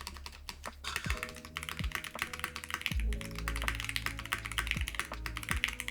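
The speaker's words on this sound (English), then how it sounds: "this is still the nicest keyboard to type on." Steady typing on a Ducky One x Mini mechanical keyboard, dense close-up key clacks in a fast irregular rhythm with no voice over it.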